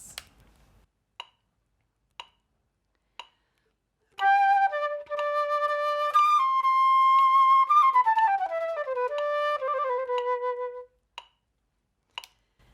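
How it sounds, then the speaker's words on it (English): Sparse metronome clicks tick at a slow, steady minim pulse, about one per second, alone at first and then beneath a flowing melodic phrase. "instead of the metronome being on the crotchet pulse, it's going to be on the minim"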